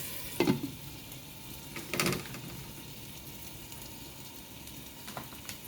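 Spaghetti fries quietly in a covered pan, a soft steady sizzle broken by two sharper clattering bursts near the start and a light knock near the end, with no talking.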